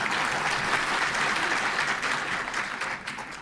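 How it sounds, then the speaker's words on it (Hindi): Steady, moderately distant audience applause during a speech, an even wash of many hands clapping that thins slightly near the end. "तो ताली तो बजाने दीजिए।"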